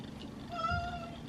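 A pet cat gives a single short, clear meow close by, with faint room noise behind and no talk.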